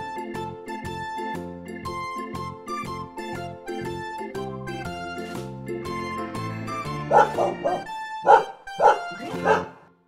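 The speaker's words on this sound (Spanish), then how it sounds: "Perro." A dog gives a few sharp barks near the end, over a plinking music track that dominates the first part.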